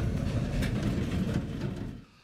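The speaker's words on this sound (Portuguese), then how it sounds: "Quando o trem foi liberado para seguir viagem." A train rolls over a level crossing in Brazil after the line reopens following a bus-train collision, giving a loud, steady low rumble with faint rhythmic clatter that fades away near the end.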